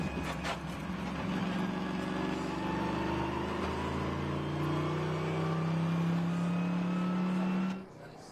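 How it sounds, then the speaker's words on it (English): Trans Am series race car at Sebring, its engine revving loud and close in a rising, sustained roar across several seconds before cutting off abruptly near the end, with faint commentary underneath. "that's a pretty stout race car"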